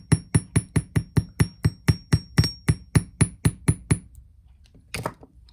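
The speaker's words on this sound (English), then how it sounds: "If you don't like the hammering part, you can skip it" A hammer strikes metal wire to texture a bangle bracelet: about sixteen sharp, loud taps in a quick, even rhythm, then the strikes stop and a brief soft shuffle of handling follows.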